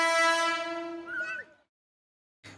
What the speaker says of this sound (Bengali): ট্রেন অবশেষে আমার স্টেশনে চলে এসেছে